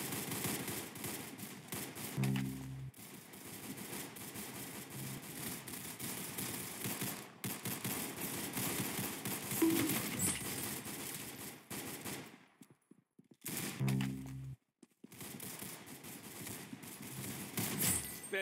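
Rapid gunfire in the Roblox Arsenal shooter game crackles close and steady in long automatic bursts, broken by a couple of sudden short silences and sharp single shots.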